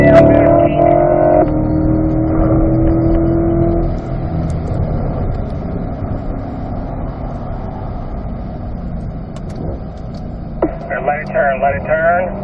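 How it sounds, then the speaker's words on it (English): A C8 Corvette powers along Spring Mountain Raceway, its engine droning from inside the cabin with a steady tone that eases after a few seconds while a driving instructor talks over it. "back to throttle now. Nice and smooth, follow my line here, I want to accelerate all the way down to this peak"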